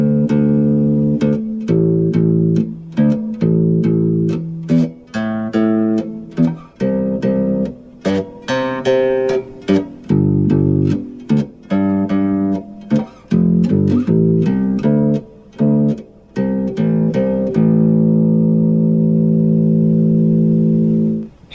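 A bass guitar plays a repeating riff of plucked low notes, steady and prominent, ending on a long sustained note.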